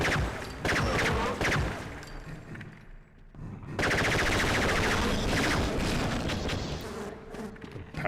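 Alien turrets in Half-Life fire in rapid, buzzing automatic bursts, loud and close, with a brief lull in the middle before a sustained stream of shots resumes.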